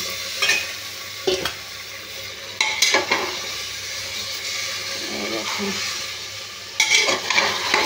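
Cauliflower, soaked first, drops into spices already fried in a pan and is stirred, loud scraping and clattering strokes over a moderate crackling sizzle, close by.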